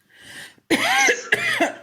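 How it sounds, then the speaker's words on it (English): A faint breathy sound, then two forceful, close coughs in quick succession with a throaty rasp. "Cough it out. Energetically coughing."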